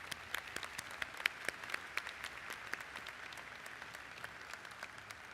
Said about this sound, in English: Let's just take a quick moment to show our gratitude and with a well-deserved round of applause